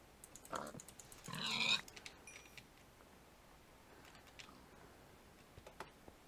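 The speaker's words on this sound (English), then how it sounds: "Pigs." A pig oinks in Tekkit Lite, a Minecraft-based video game: one short grunt followed by a louder, longer squeal, with faint keyboard and mouse clicks and quiet background hum, and no voices.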